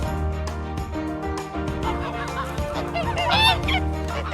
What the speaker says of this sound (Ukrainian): А це гуска. Вона кричить га-га-га.